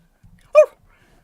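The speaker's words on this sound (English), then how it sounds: "There's a dog." A dog gives a single short bark, close and clear, against a near-silent room with faint low murmuring just before it.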